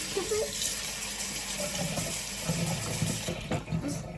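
Tap water runs steadily into salt fish fritter batter in a home kitchen, a continuous splashing flow that lasts throughout at moderate loudness, with faint background voices.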